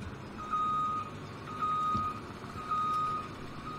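A New Holland CR10-90 combine harvester in Farming Simulator 2017 gives three evenly spaced, steady reversing beeps over a low engine rumble.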